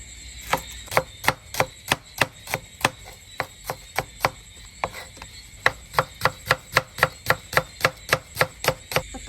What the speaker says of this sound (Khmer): តបមកទៀតខ្ញុំត្រូវហាន់ខ្ទឹមក្រហម